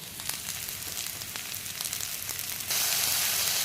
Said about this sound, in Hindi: मीडियम धीमी आंच में हम भून रहे हैं।